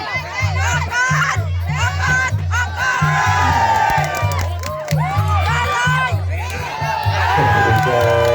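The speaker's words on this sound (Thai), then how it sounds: "แต่ว่าเสียงเชียร์แกให้กำลังใจตลอดคับ" Loud, dense crowd cheering and chanting at a Thai boxing (Muay Thai) match, continuous roaring voices with rhythmic shouts and whoops throughout, steady in level with bursts of excitement.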